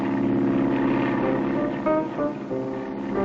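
Propeller airplane drones steadily in a classic cartoon, a continuous buzzing engine hum holding at a loud, even level throughout with slight wavering in pitch.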